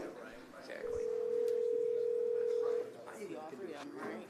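A steady telephone dial tone sounds for about two seconds during a call at a city council meeting, with people talking before and after it.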